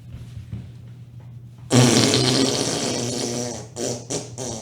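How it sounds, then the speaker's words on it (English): A man's loud, drawn-out fart bursts out after a quiet stretch with faint background murmur, rasping for about two seconds before a few shorter sputters trail off near the microphone. "is he gonna get up and blow a fart"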